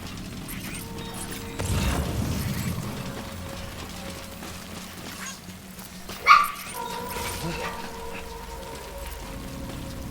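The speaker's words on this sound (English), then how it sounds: "The puppy doesn't like him either." Puppy in the video game Death Stranding barking and yipping amid game ambience, a louder burst early on and a sharp yelp near the middle, with faint rain-like patter and mechanical hum underneath.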